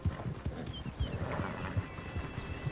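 A ridden horse in a video game gallops with steady rhythmic hoof clip-clops that are close and continuous, alongside a faint snort.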